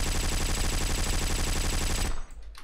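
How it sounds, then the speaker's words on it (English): Gunfire in the War Trigger 2 online shooter, a loud, dense burst of rapid automatic shots hammering steadily for about two seconds before cutting off abruptly. "Stop shooting me."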